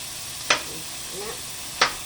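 Food sautéing in a pan while the lunch of boiled beef-bone soup is cooked, a soft sizzle with two sharp stirring scrapes spaced well apart.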